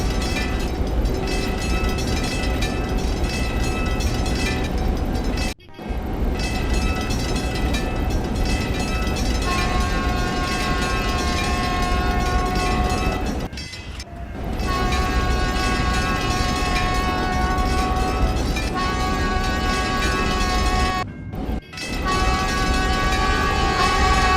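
A train pulling into a station platform in the Trainz railway simulation game, a loud continuous rumble with sustained tonal whine and rolling wheel noise, broken briefly by a few short dropouts.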